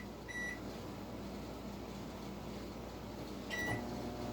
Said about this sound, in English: I'm going to put this in the microwave, because we're going to partially cook this to speed up the process.